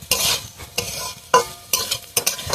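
Fig (dumur) pieces frying in a pan are stirred in a few quick scraping strokes, each burst of spatula against pan rising over a steady sizzle.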